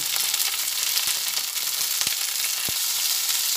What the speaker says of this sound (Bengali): প্রথমে এই সবজি দুটো একটু ভেজে নিচ্ছি।